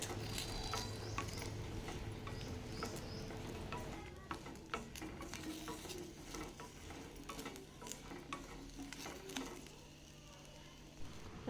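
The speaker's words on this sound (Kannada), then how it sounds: "ಇನ್ನಾಗಿ ಹುರ್ಕೋತಾ ಇದ್ದೀನಿ ಹಸಿ ಮೆಣಸಿನ್ಕಾಯಿ" Green chillies fry in a pan with a soft, low sizzle and scattered clicks and scrapes of a utensil against the pan, faint and close, with no talking.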